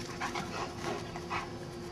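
A dog pants and whimpers nearby, quick rhythmic breaths with soft whiny notes, fairly quiet and heard alone.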